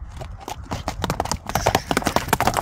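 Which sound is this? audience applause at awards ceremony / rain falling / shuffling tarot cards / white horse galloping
white horse galloping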